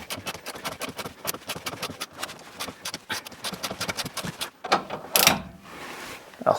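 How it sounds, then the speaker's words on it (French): An articulated-head ratchet wrench turned while replacing suspension bushings on a car, a fast run of sharp, even clicks in steady strokes, close and clear, ending with a few louder clunks and a pause. "Alors c'est bien les cliquets à tête articulée, mais des fois c'est un peu lourd."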